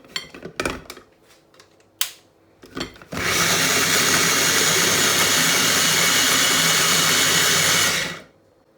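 A kitchen blender crushes tomato in a loud, steady whirring roar for about five seconds and then spins down. It follows a few short knocks and clatters from closing the lid.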